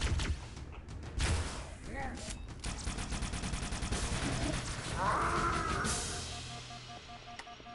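Halo campaign on Legendary: rapid game gunfire and a needler explosion, dense crackling bursts with whooshing effects and a sweeping tone near the end.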